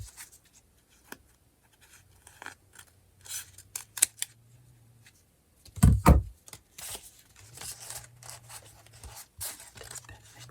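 Scissors snipping paper for a handmade journal page, a few sparse quiet cuts and rustles followed by a louder burst of close snips around the middle, then lighter paper handling.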